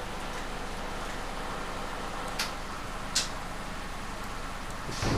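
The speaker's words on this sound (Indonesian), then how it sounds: "hujan semakin deras, teman-teman" Heavy rain hisses steadily and evenly, a dense wash of sound with a few brief sharper splashes, in a downpour that keeps intensifying.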